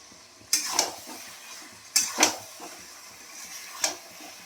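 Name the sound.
chicken pieces being stir-fried in spiced masala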